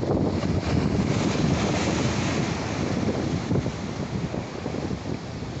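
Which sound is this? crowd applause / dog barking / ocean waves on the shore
ocean waves on the shore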